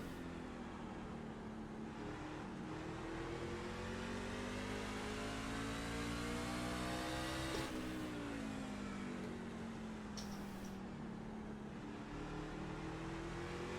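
NASCAR truck engines roar around the Martinsville short track in the iRacing sim, one engine revving up and down through the corners with other trucks droning close by, continuous and loud, with no talk.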